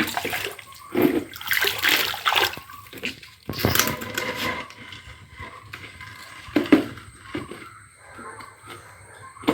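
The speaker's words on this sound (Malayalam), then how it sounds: "ഈസിയായിട്ട് ഇങ്ങനെ അങ്ങ് കഴുകിയെടുക്കാം." Water splashes and sloshes in irregular bursts as a small garden guppy pond on a terrace is washed out. The scrubbing and rinsing sound close by, with no talking.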